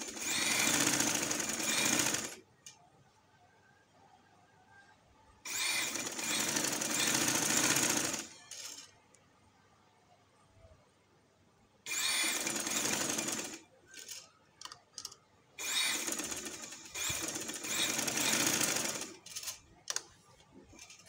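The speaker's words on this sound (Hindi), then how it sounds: "अब ये देखें यहाँ से हमने सिलाई लगा देनी है इसके ऊपर।" Sewing machine stitching a neck design, four long bursts of fast steady whirring stitches, close and loud, separated by quieter pauses with small handling clicks.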